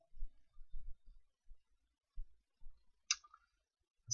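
Quiet computer mouse clicks, a few sharp isolated taps spread across a near-silent stretch with faint low thumps, close and alone.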